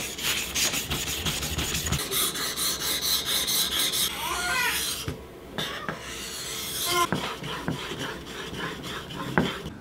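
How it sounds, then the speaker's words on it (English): Homemade knife blades are sharpened with repeated scraping, rasping strokes, close and fairly loud, in a steady back-and-forth rhythm broken by short pauses. "We also need to sharpen these up, really put an edge on them."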